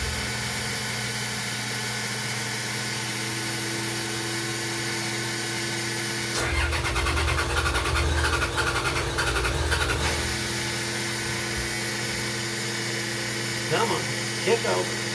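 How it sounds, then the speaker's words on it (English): A steel trawler's long-idle marine engine cranks and catches during a start test, a loud broadband mechanical burst lasting a few seconds over a steady background hum, then dropping back to the drone. "We're gonna test the engine, so he's opening the fuel lines for that engine."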